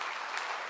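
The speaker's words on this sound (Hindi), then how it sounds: "एक बार जोरदार ताली।" Loud, dense applause from a satsang audience, a steady wash of clapping with no pauses across the short burst.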